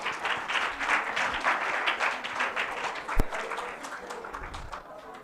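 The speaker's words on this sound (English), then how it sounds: "Please give a huge round of applause for her." A crowd applauds a speaker at a TED talk, a sustained, moderately loud round of clapping that holds steady throughout, with one sharp louder clap near the middle.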